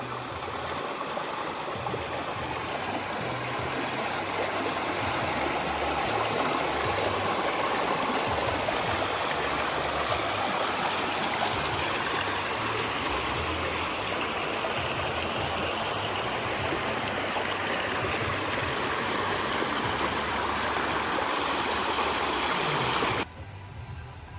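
Steady rushing water flows continuously, a broad even wash of river noise close by that cuts off abruptly near the end.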